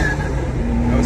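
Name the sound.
Nissan R32 GTR engine revving to 7,000 rpm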